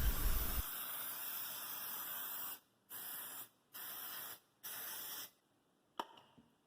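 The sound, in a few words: cooking spray on baking pans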